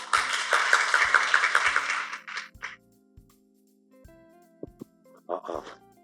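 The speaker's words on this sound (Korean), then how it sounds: "박수로 맞이해 주십시오." An audience at a city-branding forum claps to welcome a design professor to the stage, a short burst of applause that fades out after about two seconds, leaving quiet room tone with a few faint tones and a brief sound near the end.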